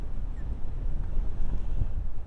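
Strong wind buffeting the microphone on a hilltop in the Derbyshire Peak District, a loud continuous low rumble with gusty swells throughout.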